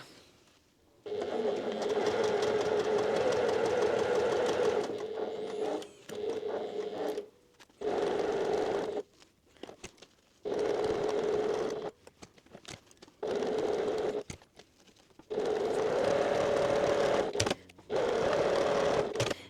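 Sewing machine stitching fabric scraps for a handmade gift, close and steady mechanical whirring in repeated bursts of varying length, separated by short stops.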